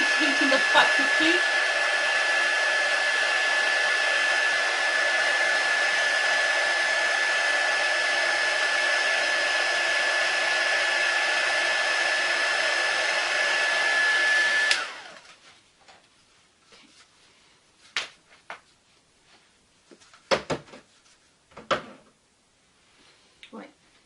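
A hair dryer blows steadily and loudly onto gift wrap on a Christmas hamper for about fifteen seconds, then cuts off, leaving quiet handling clicks and rustles.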